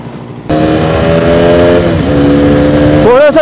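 A motorcycle engine revs loudly during a ride on an open scenic road, starting abruptly and holding a strong, steady drone before the pitch climbs sharply near the end.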